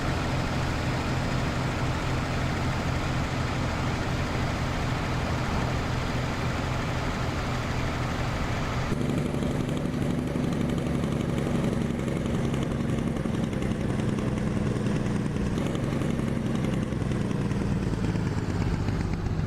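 Marmon 57P truck engine in American Truck Simulator, hauling an excavator on a lowboy trailer through New Mexico: a loud, steady diesel drone and rumble that continues without pause, with no talking.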